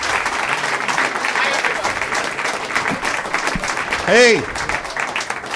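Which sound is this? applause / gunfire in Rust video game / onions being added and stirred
applause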